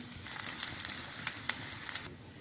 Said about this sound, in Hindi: 1 टेबलस्पून इसके अंदर मैं गार्लिक जो है वो चॉप की हुई है वो मैं डाल रही हूँ।